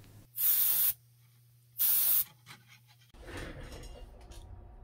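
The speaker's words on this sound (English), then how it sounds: "We also wound up spray painting it black." Two short bursts of black spray paint hiss from an aerosol can onto the smokestack of a modified Bachmann On30 0-6-0 model locomotive, each about half a second long and close, followed by quieter handling noise.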